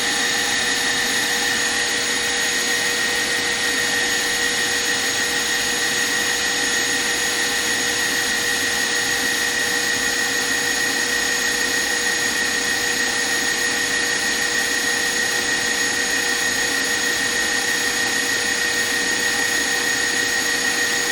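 An electric whisk beating a mixture to soft peaks while sugar syrup heats toward 235 degrees: a loud, continuous motor whine that holds unchanged for over twenty seconds.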